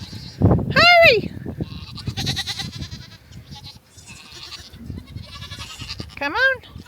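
Goats let out two sharp, wavering bleats, one early and one near the end, while a person shouts encouragement nearby amid footsteps and outdoor rustling.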